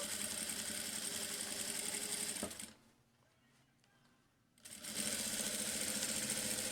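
A sewing machine stitches a seam on a fabric strip for table placemats, running as a loud, close, rapid mechanical whir that stops for about two seconds of near quiet and then starts up again.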